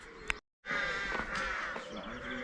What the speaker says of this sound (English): So you can obviously hear all the birds making lots of noise.